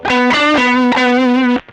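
Electric guitar run through a Blues Breaker overdrive pedal on a direct pedalboard, a loud, sustained, gritty chord struck a few times in a row, ringing full and then cut off abruptly.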